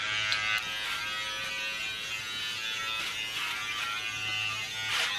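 Electric hair clippers buzz steadily and close up while cutting an undercut, a continuous droning hum with slight shifts in pitch as the blade moves through hair.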